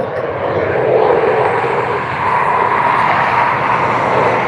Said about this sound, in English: This next one is a private jet on a Pilatus PC-12.